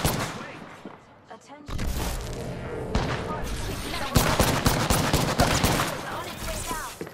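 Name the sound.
gunfire from the video game Shell Shockers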